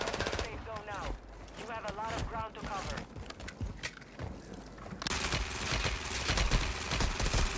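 Video game gunfire rattles in rapid bursts during a multiplayer match, partly under excited talk, then turns into dense, sustained shooting in the second half.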